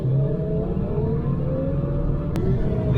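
A Kubota R630 articulated wheel loader pushing snow gives off a steady, rumbling engine hum with a slowly shifting pitch, continuous and fairly close.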